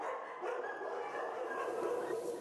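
Several dogs bark and yip at an animal clinic where dogs are kept, a dense continuous chorus of overlapping barks and whimpers at moderate distance with no talk.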